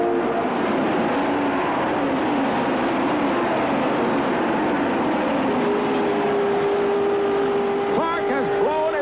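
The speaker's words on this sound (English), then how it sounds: "Roger McCluskey in number 12 is making his move, and the pack passes Jim Clark" Race cars at the 1967 Indianapolis 500 roar past in a dense, continuous wash of engine noise, with a few higher whines rising near the end under steady commentary.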